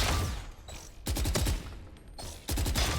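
Automatic weapon fire in Valorant, sustained bursts of rapid close shots, with three loud runs separated by brief pauses and no talking.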